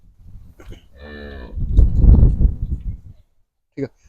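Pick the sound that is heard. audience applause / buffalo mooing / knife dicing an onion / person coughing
buffalo mooing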